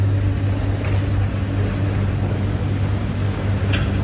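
A tractor engine idles steadily at night, a constant low droning rumble with little variation, close by and without speech.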